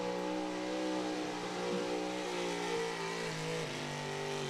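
Pulling truck at a truck and tractor pull, engine revving hard and sustained with wheels spinning out, a loud droning roar that shifts pitch slightly, heard from some distance with no talk.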